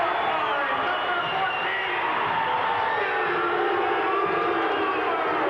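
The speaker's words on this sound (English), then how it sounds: "And you hear the crowd as they congratulate Barnesy." A hockey arena crowd at a 1987 WHL junior game cheers a tying goal, a loud sustained roar filling the rink, with a commentator talking over it.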